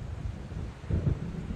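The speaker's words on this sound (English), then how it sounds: "It seems there's a storm coming." Thunder from an approaching storm in the video game Alan Wake: a low, continuous rumble that swells into a heavier roll midway, then settles back into a steady growl.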